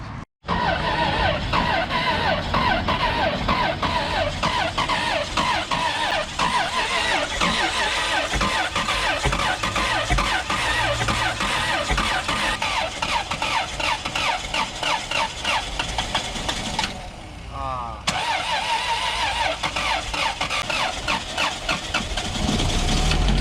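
A Lexus IS300 with a 2JZ-GE engine cranks and catches, then settles into a steady, loud idle that runs on close by, with a brief dip partway through.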